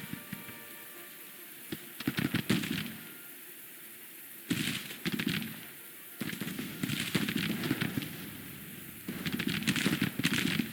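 Artillery fire in the Grand Tactician: The Civil War strategy game, heard as bursts of crackling, rapid reports in clusters separated by brief lulls, moderately distant and fairly soft, with no voices.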